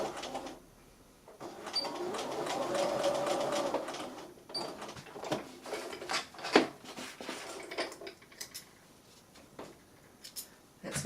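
A sewing machine back-stitches a seam on a fabric chicken, a short burst of mechanical whirring in the first few seconds, then quieter handling clicks and rustles.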